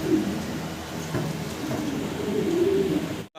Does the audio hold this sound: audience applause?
no